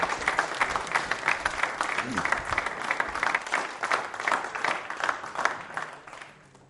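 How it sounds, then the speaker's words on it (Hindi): A live quiz show audience on the Constitution of India applauds a participant, with vigorous, sustained clapping and a talking voice over it, fading toward the end. "तालियां किंशुक साहब के लिए जोरों से बजाइए, जोरदार तरीके से।"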